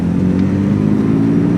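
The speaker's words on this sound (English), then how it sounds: "From inside the car, the exhaust doesn't sound bad at all." BMW E46 exhaust with the muffler deleted, heard from inside the car with a window down: a steady, loud engine drone with a deep low rumble that holds level throughout, with no talk over it.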